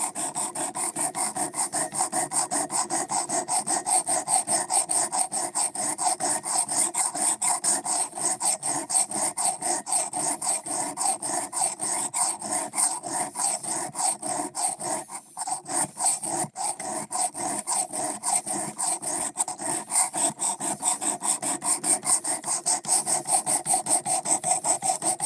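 Sandpaper rubbed by hand across wood in steady, rapid back-and-forth strokes, close and continuous with a brief pause midway, no voices.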